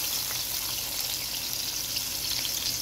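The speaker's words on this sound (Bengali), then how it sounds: "প্রথমে আমি পেঁয়াজটাকে খুব সুন্দর করে ভেজে নেব।" Chopped onion frying in hot oil in a pan for a fish curry, a steady, even sizzle close to the microphone with no talking.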